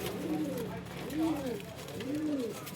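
Pigeons in a loft compartment coo softly in three rising-and-falling calls at a steady rhythm, close by, with someone talking faintly underneath.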